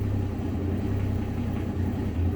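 A cold car engine idles right after an oil change, a low steady rumble with a slightly uneven tone, fairly quiet and continuous with no talking.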